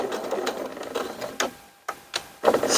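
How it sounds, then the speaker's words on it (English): Sewing machine stitching bridle tow loops onto kite keels, running in short rapid bursts separated by brief pauses, close and moderately loud, with no speech. "Stitch that 3 or 4 times, back and forth."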